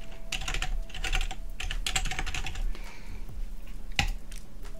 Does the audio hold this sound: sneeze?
no